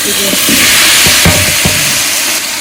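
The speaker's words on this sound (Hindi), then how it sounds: "और इसके साथ हमने डालनी है इसमें टमाटर, वो सब भूनता रहेगा साथ में।" Tomatoes and garlic paste frying in a pan for a family biryani, a loud steady sizzle with stirring scrapes and a few clanks, close up and without talk.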